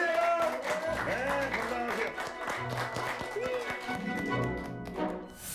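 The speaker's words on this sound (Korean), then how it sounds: "다시 한번 큰 박수 부탁드리도록 하겠습니다" An audience applauding during a Korean TV health program about shoulder pain: a steady patter of many hands clapping, moderately loud, with a voice speaking over it and music underneath.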